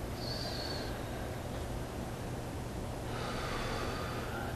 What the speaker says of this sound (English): Breathe into long, deep breaths.